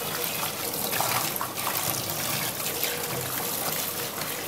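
Shibori-dyed fabric is rinsed and worked in water, a continuous close splashing and trickling with steady loudness throughout.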